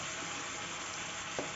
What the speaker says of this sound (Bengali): এইভাবে একে একে বেগুনগুলি দিয়ে আপনি এটাকে নাড়তে থাকবেন।